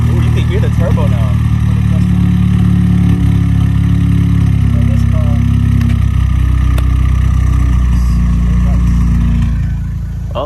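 A turbocharged car with a freshly straight-piped exhaust idles loudly and close up in a steady, deep, continuous rumble, with a faint rise in pitch partway through and voices talking over it.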